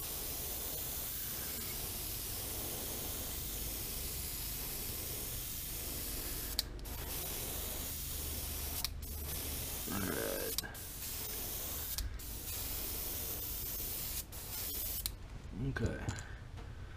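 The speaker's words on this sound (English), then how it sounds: "hold my airbrush at a little bit of an angle as I'm going down" Continuous airbrush hiss runs steadily throughout, close and even, painting a rainbow trout pattern on a crankbait fishing lure, with brief pauses and small clicks near the end.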